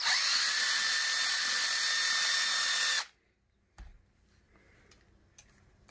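A high-pitched power tool whines steadily for about three seconds as it deburrs the edges of a CNC-cut jetski dash plate, then stops abruptly, leaving quiet with a couple of faint handling knocks.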